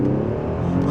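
A 2013 Mercedes CLS accelerates hard, its engine giving a loud, steady, close-up roar from inside the car during a brief moment.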